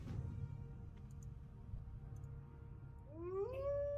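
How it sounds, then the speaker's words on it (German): Cat meowing in World of Warcraft: a quiet background hum, then near the end a rising, wavering meow that is clear and moderately loud. "So, the cat is back."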